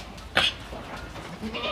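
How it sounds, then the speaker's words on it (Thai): A goat gives one sharp, close bleat on a goat farm, followed by softer farmyard bleating and background noise. "นี่ครับบรรยากาศในฟาร์มแพะ"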